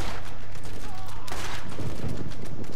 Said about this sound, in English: I shot at the guy with the SMG